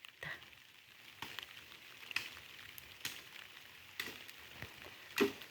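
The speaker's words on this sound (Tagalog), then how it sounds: "Lalo na ngayong panahon, wala talagang tigil ang ulan." Soft, irregular patter of rain falls on farmland against a quiet background, with scattered louder drops and splashes and no voices.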